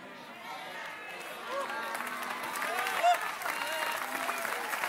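Congregation applauding during a prophetic church service, a broad steady wash of clapping that swells slightly partway through and holds, with voices mixed in.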